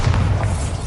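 The Bombarda spell from the video game Hogwarts Legacy goes off as a single short, deep boom, loud and close, with a heavy low thud and no voices.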